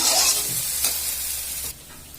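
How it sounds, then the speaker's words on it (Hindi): Tomato, garlic and ginger paste sizzles loudly in a pan as it is stirred and scraped, the frying hiss dropping noticeably quieter toward the end. "सबटा के हम अच्छी तरह भून लेबे"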